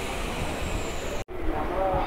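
A MEMU passenger train pulling out of Bhimavaram Junction gives a steady rumble and hiss under its wheels, with a brief dropout partway through. A voice speaks over the train noise.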